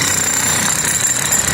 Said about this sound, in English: we are using demolition hammer here for chipping the